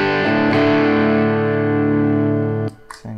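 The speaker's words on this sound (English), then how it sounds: "This is how it sounds with the humbucker." Electric guitar with a humbucker pickup played through a MOOER US Gold 100 preamp pedal on its clean mode with gain raised, a loud sustained driven chord ringing out for over two seconds before it is cut off, followed by brief pick noise.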